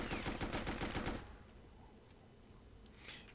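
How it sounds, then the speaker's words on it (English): Lahti-Saloranta M26 machine gun firing in the video game Men of War: Assault Squad 2, a loud rapid burst of about a second that stops abruptly, followed by a quieter rumbling battlefield background. "Those machine guns aren't great. Slow fire rate, slow reload time"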